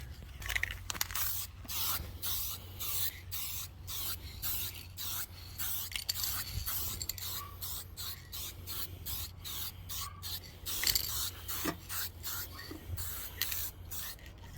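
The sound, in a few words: spray paint coating applied to car part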